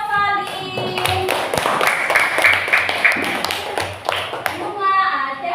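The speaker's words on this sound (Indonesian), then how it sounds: "ya tepuk tangan buat Salim" A classroom of children claps for a pupil named Salim during a lesson. The quick, steady hand claps run the whole time, with children's voices and chatter mixed in.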